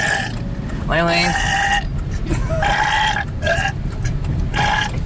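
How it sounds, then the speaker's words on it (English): A boy inside a van gives a loud, drawn-out burp close to the microphone, followed by shorter croaky belching sounds, with voices speaking around it. "I can burp whenever I want."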